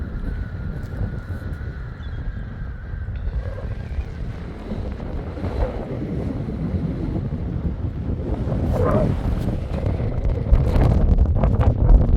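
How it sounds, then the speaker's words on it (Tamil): Strong wind at a lakeside in Oman buffets the microphone in a constant low roar, growing gustier toward the end, with a faint wash of lake water in the background. "காற்று தான் சுரண்டு சுரண்டு அடிக்குதுங்க"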